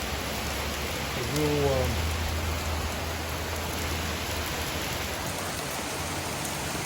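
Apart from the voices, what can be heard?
rain falling on grass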